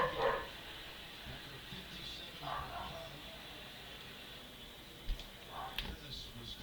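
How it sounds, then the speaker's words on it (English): A dog barks upstairs in a house, a few short distant yaps heard faintly over steady background noise while someone works on a watch pinion and top plate. "Alright, attack dog upstairs."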